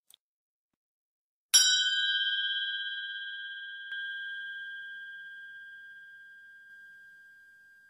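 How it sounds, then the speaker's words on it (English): A meditation timer chime rings once after a brief silence, a clear bell tone that sustains and slowly fades, then sounds a second, softer strike that rings on and decays alone. "The chime will sound twice when the 30 seconds is complete."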